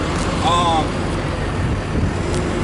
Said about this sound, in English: Dang noisy yard truck.